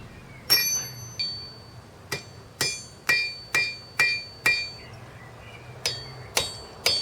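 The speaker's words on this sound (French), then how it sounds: "je forge l'ébauche de la lame" Hammer strikes ringing on a Damascus steel blank being forged into the blade of a Japanese gyuto-style knife, about ten sharp metallic blows at a steady, slightly irregular pace, close and loud with bright ringing tails.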